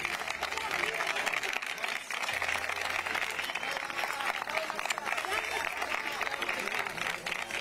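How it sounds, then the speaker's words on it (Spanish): Audience applause for Belén Pérez, a candidate of the local party Vecinos por SanSe, at the party's presentation event: a steady, dense wash of clapping filling the whole stretch at moderate level, with crowd murmur beneath. "Fuerte aplauso para ella."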